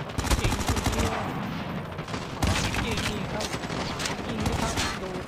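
Gunfire in a Call of Duty match in Hardpoint mode: rapid bursts of automatic shots crackle in dense volleys, broken by a short pause before firing resumes, with game voices mixed in.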